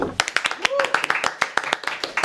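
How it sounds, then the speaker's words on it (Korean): An audience claps in quick, sharp, slightly uneven beats at a live talk event, close and fairly loud, with a voice sounding over the clapping. "박수!"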